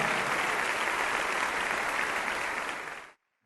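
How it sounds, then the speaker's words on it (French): A church congregation at a Bible study gathering in La Colina, Bogotá, breaks into loud, dense applause that holds steady for about three seconds, then cuts off abruptly into silence. "un fort applaudissement pour eux qui sont là-bas aussi derrière."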